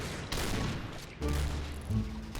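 Sniper rifle fire in a video game, with two heavy gunshot reports about a second apart, each with a booming tail.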